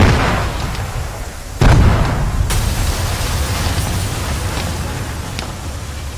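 A video game explosive detonates with a sudden loud boom, a sharp blast followed by a long rumbling decay and scattered crackles in a warehouse firefight.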